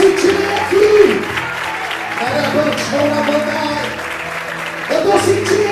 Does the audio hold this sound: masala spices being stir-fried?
no